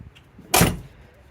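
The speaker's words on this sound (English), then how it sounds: "So we'll get the hood open here." A single short thunk and scrape as the hood of an original 1986 Mustang is raised, one brief close mechanical burst in an otherwise quiet space.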